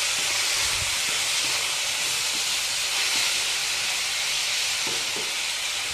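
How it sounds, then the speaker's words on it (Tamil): Prawns sautéing in a pan for prawn masala gravy give a steady, loud sizzling hiss throughout, with faint scrapes from stirring underneath and no talking. "இதை நல்லா இதில் வதங்குற மாதிரி எல்லா பக்கமும் கிண்டி வச்சுக்கிறோங்க"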